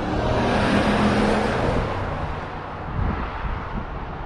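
Half-ton pickup truck towing an Xplore X195 trailer down a mountain pass, a steady loud engine and road drone mixed with wind buffeting the mic, easing slightly partway through, with no talk.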